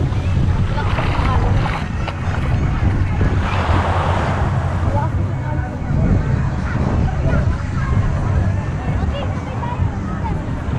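Strong wind roars steadily across the microphone beside water at a river mouth, with waves washing and faint voices underneath.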